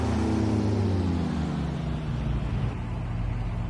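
Cessna 172 piston engine in the X-Plane 11 flight simulator cranking and catching, then settling into a steady, loud, continuous drone from start to finish.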